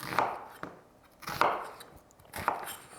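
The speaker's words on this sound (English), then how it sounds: "I will use half an onion cut into maybe 1 inch in thickness." A knife chops through half an onion on a cutting board, three distinct crisp thuds spaced about a second apart, close and clear with no talking.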